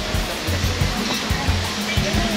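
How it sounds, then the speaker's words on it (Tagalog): Water pours steadily from a natural spring beside Tala River, a constant close rushing and splashing, with faint low thumps and what may be voices barely audible under it. "Dito, may ano, bukal"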